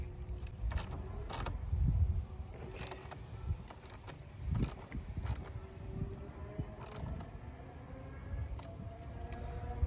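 A 10mm socket wrench works a battery terminal on a 2015–2022 Ford F-150, giving faint, close metallic clicks and rattles over a low background hum.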